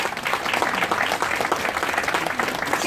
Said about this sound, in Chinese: 掌声感谢